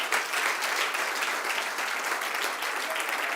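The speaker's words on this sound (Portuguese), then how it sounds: "aplauda forte o nome dele" A church congregation breaks into sustained applause during a sermon, a dense, steady wash of many hands clapping at once, loud and even throughout with no speech over it.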